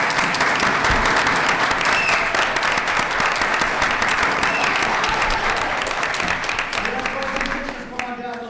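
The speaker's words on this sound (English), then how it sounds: "let's give them all a round of applause" Audience applause at a school board meeting, a steady loud round of clapping that carries on for about eight seconds before tapering slightly at the end.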